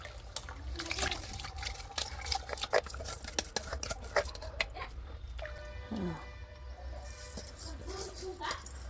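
Rice that was soaked for half an hour goes into boiling water in an electric cooker and is stirred, with soft splashes, a spoon scraping and clinking against the pot, and brief talk around it.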